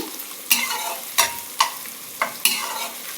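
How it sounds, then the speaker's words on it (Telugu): Freshly pounded ginger and garlic fry in a pan over high flame with a steady sizzle, broken by several sharp scraping strokes as the mixture is stirred, close by with no talking. "హై ఫ్లేమ్లో పెట్టాను పెట్టేసి ఫ్రై చేసుకుంటున్నాను"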